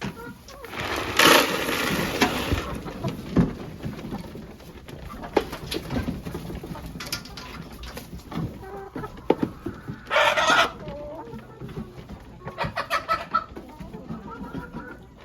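A flock of hens clucks and squawks around the feeding area at breakfast time. The calls are close, busy and irregular, with louder bursts scattered over fifteen seconds, and a person speaks briefly among them.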